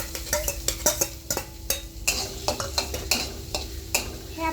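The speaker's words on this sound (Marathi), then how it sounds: "ह्याच्यामध्ये आपण टाकूया कांदा." Chopped onion stirred and fried in a hot pan on full gas: a spoon scrapes and clinks against the pan in irregular repeated strokes over a soft, steady sizzle, close up, with no talking.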